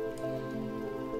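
Steady rainfall in the building game Stonehearth, a soft, even wash of falling rain heard alone at low volume without talk.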